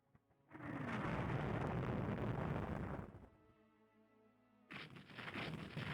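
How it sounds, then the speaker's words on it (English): A torpedo strikes a ship in the naval strategy game Rule the Waves II, a loud, sustained explosive roar lasting about three seconds, fading into a low rumble before another burst of noise swells up. "Oh, one of our ships got hit by a torpedo."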